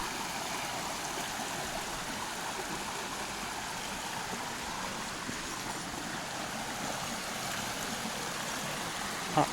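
A creek on Panther Creek Trail flows with a steady, broad rushing and babbling of water, constant and fairly close, with no voices.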